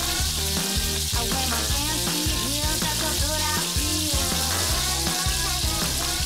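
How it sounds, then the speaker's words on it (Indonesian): Battered squid deep-frying in hot oil for a seafood dish alongside lobster: a loud, steady, crackling sizzle that runs continuously, with clinks and stirring sounds mixed in and no talking. "Lanjut, kita goreng juga cuminya."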